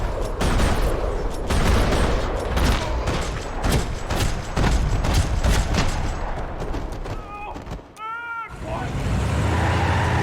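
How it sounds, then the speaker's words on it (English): Rapid bursts of gunfire rattle through a parking lot in the video game Max Payne 3, loud dense volleys of shots over several seconds, then a brief drop and tonal electronic chirps before the noise resumes. "Another parking lot rattling with gunfire."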